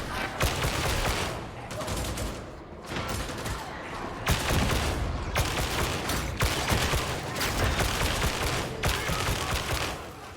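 Sustained gunfire in the video game Darktide, dense bursts of rapid shots and volleys hammering almost without pause, loud and close, with brief lulls between bursts and a voice faintly present underneath.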